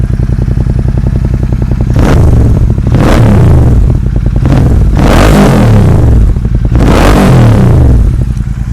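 Modified GT 650 motorcycle with aftermarket exhaust, idling near 1,100 RPM then revved hard three or four times, loud and close, each rev rising and falling back to a steady thumping idle.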